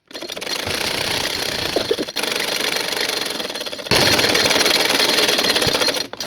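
A sewing machine runs loud and close, stitching along fabric beside buckram while a saree pleat belt is made, a steady rapid whirring drone in three long runs with short stops between them.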